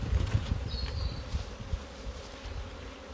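Honeybees buzz steadily and close while a beehive is being split and bees are shaken into a nucleus box, with soft thumps and handling knocks under the dense hum.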